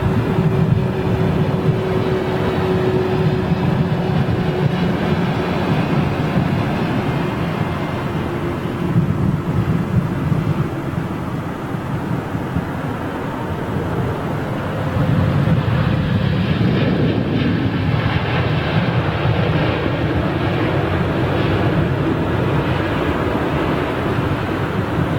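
A Turkish airliner with a big droopy undercarriage and a high nose-up attitude lands at London Heathrow in windy weather, giving a steady, loud jet roar with low rumble and gusting wind throughout.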